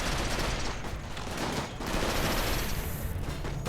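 Colonists in Rimworld firing from a firing line, dense overlapping gunfire in a continuous rattling barrage, moderately loud and steady for several seconds with no talk.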